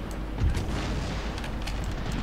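Cannon fire from artillery in Empire: Total War, a single deep boom early on, then a dull rumbling battlefield bed that carries on to the end.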